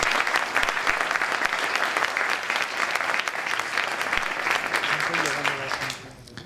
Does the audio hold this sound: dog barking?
no